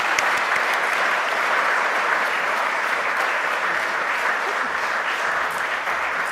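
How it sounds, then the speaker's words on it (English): An audience at a forest-protection event in Victoria claps steadily and warmly for several seconds, the dense applause holding even throughout with no voices standing out. "So I'd just like to get a round of applause for our Forests Working Group."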